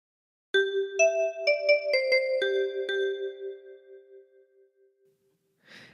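A short phrase of We Wish You a Merry Christmas played on a 10-key kalimba: about seven plucked, chiming notes in a lilting rhythm, with the last notes left to ring out and decay, solo with no voices.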